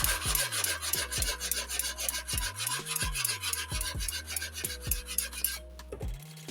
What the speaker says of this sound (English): then I just sand it slightly